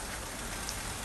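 Rain beating against windows in hurricane weather near Jamaica, a dense, steady hiss of drops pattering on glass, close and continuous with no voices.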